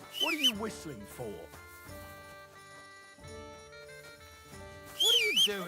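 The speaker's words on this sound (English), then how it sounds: "What are you whistling for?" A high, wavering whistled tune in Kingdom Come: Deliverance II comes in short bursts at the start and again near the end, set over steady melodic game music.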